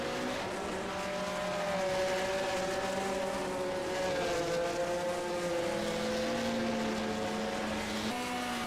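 A 1964 World Sports Car Series race car engine roars in a racing simulation game at the Nürburgring. The engine holds a loud, continuous, high-revving drone whose pitch slides up and down through gear changes, with no talking.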